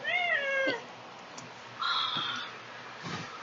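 A house cat perched on a toilet seat lets out two clear, drawn-out meows, the first wavering and the second flatter, separated by a quiet pause in a small room.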